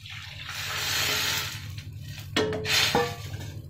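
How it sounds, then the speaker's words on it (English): Water runs into a pan of besan chutney with tomato and salt, a hissing gush near the mic followed by a couple of clanks of a pot or utensil, with no speech. "We're going to add water."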